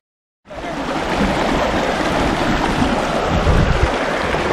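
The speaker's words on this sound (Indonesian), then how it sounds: "Lihat mengalir. Ini adalah sungai Wadi Hanifah." The Wadi Hanifah river in the arid Saudi desert flows with a loud, steady, broadband rush of water that starts abruptly and continues unbroken, with no voices.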